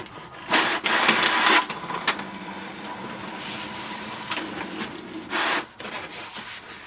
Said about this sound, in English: the printer will print a page.